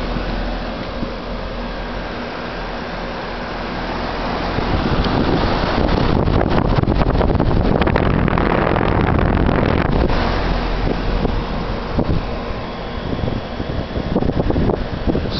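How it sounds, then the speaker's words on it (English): A 4-ton York Affinity 2S heat pump with R22 refrigerant runs in heat mode outdoors, giving a loud, steady, broad whooshing roar that swells slightly midway and carries on without talk. "4 nominal ton York Affinity 2S heat pump with R22 refrigerant"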